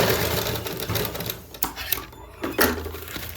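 A sewing machine stitches a princess-cut blouse with a loud, steady mechanical whir that slows, stops briefly with a few clunks, then starts running again.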